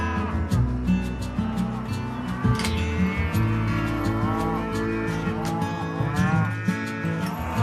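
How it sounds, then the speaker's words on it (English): Cattle moo repeatedly and loudly at close range, several overlapping calls from a herd being separated on a prairie farm, with no talking. "These cows just don't want to be separated."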